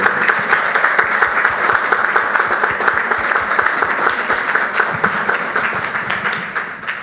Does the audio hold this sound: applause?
yes